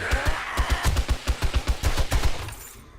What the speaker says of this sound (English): my gunfire adds to it